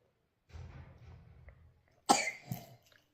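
A sick little girl with a fever coughs indoors, one harsh close burst followed by a shorter second cough, after a stretch of quieter low rustling or breathing.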